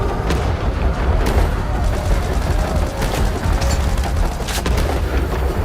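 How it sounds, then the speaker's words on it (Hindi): Loud, continuous rumbling blasts and crackling bangs from an explosion in a tunnel, like explosions and gunfire in a chaotic battle scene. "और तभी अचानक एक और विस्फोट होता है।"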